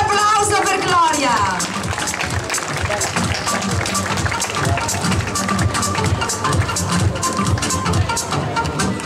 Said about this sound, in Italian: un bel applauso per Gloria